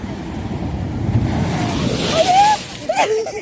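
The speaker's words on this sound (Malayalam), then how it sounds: "തിര എൻ്റെ പാദങ്ങളെ തഴുകുന്നതായിരിക്കും" Waves wash up on a beach around bare feet in the evening, a steady broad rush of surf with some wind noise, while a few faint high chirping sounds come through near the end.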